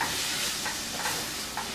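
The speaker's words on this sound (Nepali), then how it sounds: "यसलाई अलिकति अब पानी राखेर भुटौँ" Masala sizzles and hisses in a pan after a little water is added, a short burst of close steamy crackle with stirring scrapes.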